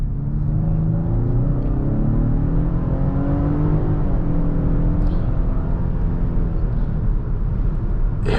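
Powertrain of a 2023 Lincoln Aviator Grand Touring plug-in hybrid heard from inside while driving, a steady low engine drone with rising and falling whirring tones and constant road rumble.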